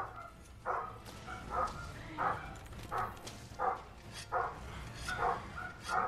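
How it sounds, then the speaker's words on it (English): Neighbouring dogs bark repeatedly in the background at a fairly regular pace, roughly one or two barks a second. The barks sound moderately distant over a low steady room hum. "So sorry guys for the barking in the background."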